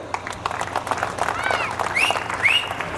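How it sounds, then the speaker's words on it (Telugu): Applause from an audience at a political speech in a hall, honoring the women present, a steady wash of clapping with crowd noise and a few whistles near the end. "వాళ్ళందరికీ గట్టిగా చప్పట్లు కొట్టండి"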